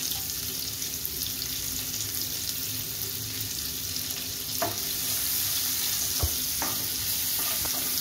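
Onion and garlic frying in a pan, a soft steady sizzle with a few faint clinks and scrapes of stirring, no voices.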